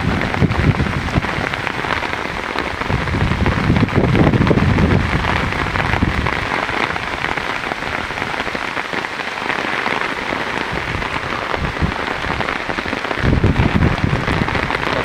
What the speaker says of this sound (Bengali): অনেক সুন্দর বৃষ্টি দেখেন, সত্যি অন্যরকম একটা অভিজ্ঞতা